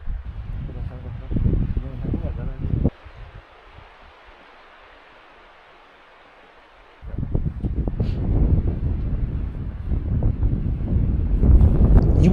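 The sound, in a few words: strong wind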